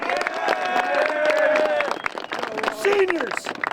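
Clapping from a crowd honoring the coaches at a high school football playoff gathering, a short burst of applause mixed with voices and cheering, fairly loud and close.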